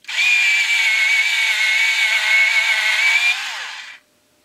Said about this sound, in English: I'm going to use my sharpener so it's loud.